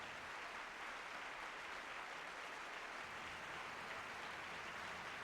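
A concert audience applauds an orchestra and its conductor at a live 1974 performance, a dense, steady wash of many hands clapping that holds fairly quietly and evenly throughout, with no voices.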